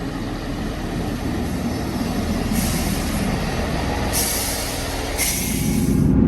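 A class 158 diesel train, unit 158 817, runs on a service to Doncaster. It gives a steady, loud rumbling drone with a few brief hissing bursts, and no voices are heard.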